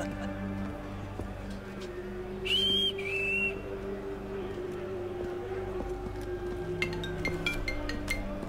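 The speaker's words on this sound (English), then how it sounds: "What's with the whistle?" A short whistle blast rises above the steady background hum and ambient noise of an Assassin's Creed III game scene, a bright tone lasting about a second, with no voices.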